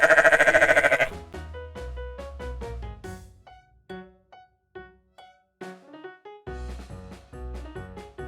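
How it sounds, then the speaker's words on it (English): A sheep gives one loud, wavering bleat at the very start, then gives way to a light, rhythmic music track that plays alone. "Sheep."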